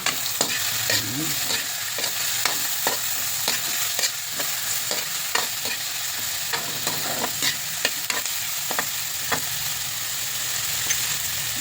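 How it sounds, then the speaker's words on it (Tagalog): Anchovies (dilis) sizzle steadily as they sauté in a pan, a constant close frying hiss broken by about a dozen sharp scraping stirs of a utensil, with no talking. "Ginisang dilis kung tawagin nila."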